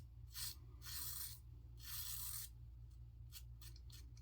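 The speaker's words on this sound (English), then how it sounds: "You hear that razor clicking?" A 1930s King oscillating safety razor fitted with modern blades clicks and rasps across a shaved head, close up, in several scraping bursts of about half a second to a second, with a steady low hum underneath.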